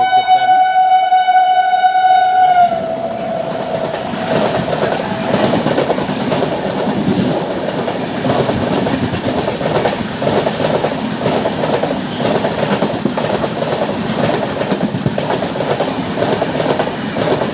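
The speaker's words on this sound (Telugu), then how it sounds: "మీరు ఇంకో ట్రైన్ వస్తుందండి మన నెక్స్ట్ ప్లాట్ఫామ్ నుంచి" An intercity train pulls into the next platform at a railway station, opening with a loud sustained horn blast that gives way to steady rolling rumble and rhythmic wheel clatter, close and continuous throughout.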